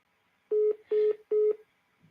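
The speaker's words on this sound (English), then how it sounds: "I can't even leave her a voicemail. It hung up." Three short, evenly spaced electronic tones beep on a phone line as a voicemail call disconnects, clean and isolated against near silence.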